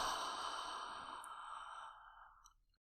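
A long, slow exhale through an open mouth during a guided breathing exercise, a soft, close airy sigh that fades out over about two and a half seconds.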